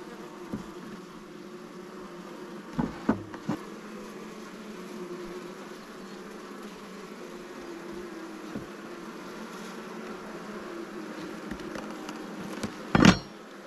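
Honey bees buzzing around an open Langstroth hive during a transfer to a top bar hive, a steady soft hum throughout, broken by a few brief knocks and a sharp clatter near the end.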